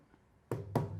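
Two bass strokes on a Ghanaian hand drum land about a quarter second apart, close and fairly loud, each a deep thump after a brief quiet lead-in.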